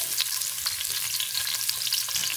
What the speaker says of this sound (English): add onions, carrots, and celery for sauteing